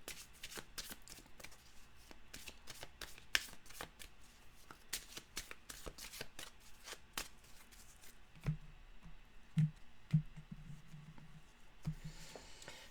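Oracle cards are shuffled by hand in a quick, soft, repetitive flutter of crisp riffles, close and quiet, with a few heavier taps and a faint low hum near the end.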